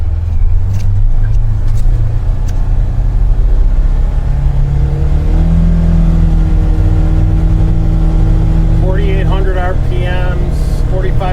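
Polaris Ranger UTV engine running steadily at around 4,500 RPM while driving about 20 miles an hour down a street, a loud continuous drone throughout, with someone talking over it near the end.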